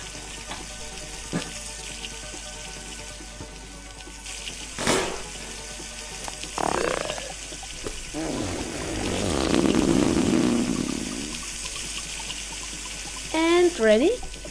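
A tap fills with water in The Long Drive video game, a short, moderately loud gushing burst in the middle, set among scattered game clicks and thumps.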